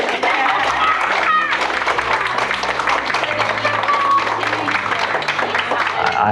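An audience claps for a $500 cash gift, the applause dense, continuous and close, holding steady for several seconds.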